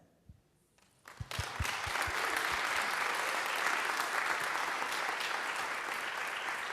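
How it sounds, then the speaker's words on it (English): After a few scattered claps, applause from a lecture audience swells into sustained, dense clapping that stays steady and fairly loud to the end. "Lovely applause."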